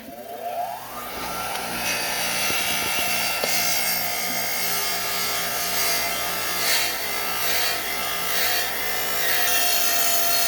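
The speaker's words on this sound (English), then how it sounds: "We'll take it to the bench grinder and we're going to grind off the rust." A bench grinder grinds rust off a metal rod with a steady, loud, continuous whirring, grinding rasp that runs without a break from start to finish.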